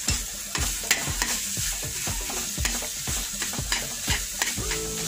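A spatula scrapes and stirs Virginia sisig with egg in a sizzling pan, about a dozen rhythmic strokes over a steady frying hiss, close and clear with no talking.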